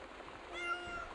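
A voice imitates a cat's meow, giving a few faint, brief mewing calls over quiet background noise.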